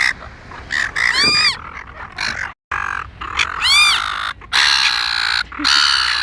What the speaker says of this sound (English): Do we have a clip of an Australian seagull?